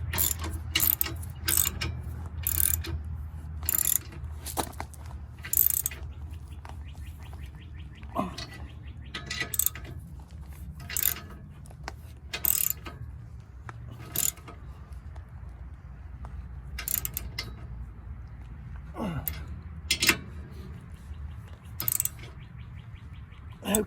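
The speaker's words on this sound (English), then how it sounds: "So then you take your socket wrench and kind of tighten them up evenly." A socket wrench ratchets in short repeated clicking bursts while tightening bolts on a trailer hitch, close and crisp over a low background hum, with pauses between strokes.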